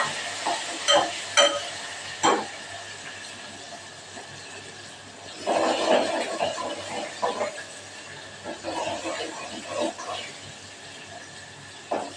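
Tomatoes and curry leaves hiss and sizzle in hot oil in a pan for a fish curry, with soft intermittent crackling bursts and stirring scrapes, fairly faint.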